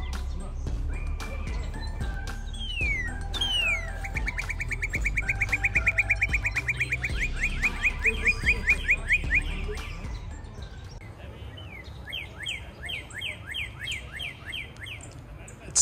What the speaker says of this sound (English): We've heard a lot of birds, like that one that you probably just heard right now. That's a cardinal.